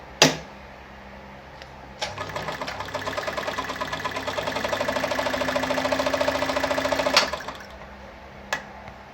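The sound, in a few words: Kayser model 138 sewing machine sewing a back stitch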